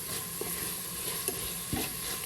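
Green chillies, curry leaves and crushed ginger and garlic sautéing over a medium flame for a Malayalam beef curry, with a soft continuous sizzle and a few spoon-stirring knocks and scrapes, no voices.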